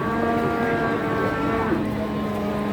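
Cattle mooing continuously at a busy cattle market in Jatirogo, long drawn-out lowing calls layered over steady crowd and market noise, fairly loud and close.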